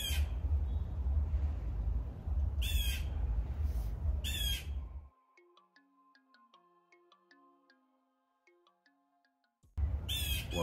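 Birds in mango trees squawk in alarm at a chicken hawk nearby, giving loud, harsh bursts over rustling background noise. A quiet stretch with faint tinkling tones follows before the squawking returns.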